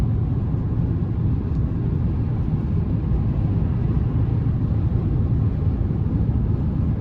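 Steady low road rumble and tire roar fill the cabin of a 2024 Chevrolet Silverado 1500 LT Z71 pickup with a 5.3 V8, driving along at a constant, even level with no voices.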